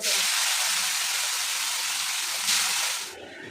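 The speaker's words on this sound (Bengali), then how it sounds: "এবার ফুলকপিগুলো ফ্রাই করে নিলাম।" Cauliflower florets sizzle loudly in hot oil dusted with turmeric, a steady dense hiss that holds evenly, swells briefly near the end, then drops off sharply, with no talk over it.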